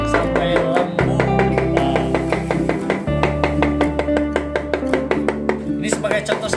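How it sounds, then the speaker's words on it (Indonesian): Maggots for catfish bait are chopped by hand with a knife, a rapid, steady series of sharp close chops on a board, looping music playing underneath throughout. "Berhubung blender enggak ada, dicacah aja bos, dicacah sampai lembut."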